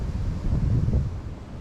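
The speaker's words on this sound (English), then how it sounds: "I just wish that wind would lay down just a little bit." Steady wind buffeting the microphone at a winter truck campsite, a low continuous rumbling roar with no talk.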